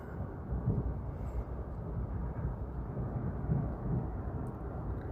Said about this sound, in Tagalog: Kumukulog-kulog pa.